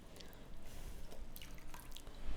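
Water drips and trickles from a squeezed cloth holding fresh chenna for rasagulla, faint close patters over a quiet kitchen background.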